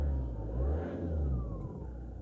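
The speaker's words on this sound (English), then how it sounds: "So if we just now start the engine up, let's see if that changes." A car engine idles at low RPM while an OBDII scanner is connected, making a steady close low hum with a faint rising whine and no talk.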